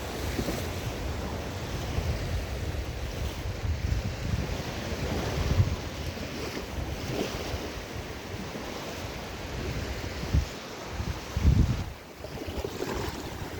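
Sea waves wash onto the large beach at Prymorsk in the Odesa region, a steady surf wash with wind buffeting the microphone and a few louder breaking surges, no voices.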